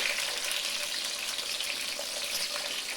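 Aubergine (baingan) pieces frying in hot oil for an aloo baingan dish, a steady, dense sizzle that holds evenly for the whole stretch with no talking over it.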